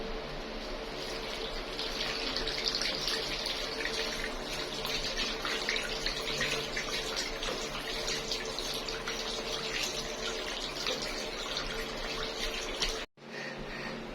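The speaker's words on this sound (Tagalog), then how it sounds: "banlawan ang kamay ng malinis na tubig." Water runs steadily from a tap as hands are rinsed clean, a constant broadband splashing gush that continues for many seconds, cutting off briefly near the end before resuming.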